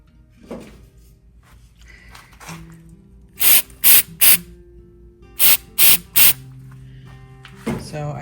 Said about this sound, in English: But I'm also gonna spray it with an accelerant.